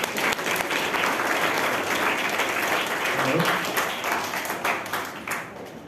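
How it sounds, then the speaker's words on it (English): Loud, sustained applause from an audience at a school's International Moon Day celebration, dense steady clapping filling the room and tapering slightly at the end. "Let's welcome him with a huge round of applause."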